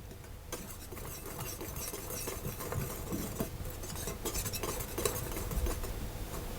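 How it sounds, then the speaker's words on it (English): Dry baguette dough ingredients, bread improver, salt and sugar, are mixed in a bowl, giving a faint, continuous scraping and rustling patter that keeps up steadily throughout without any talking. "I'm going to give that a mix around"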